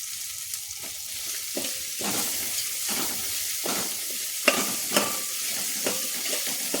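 Basmati masala rice with cabbage stirred and fried in a pan, a steady sizzle punctuated by regular scraping strokes of the spoon, moderately close and without speech.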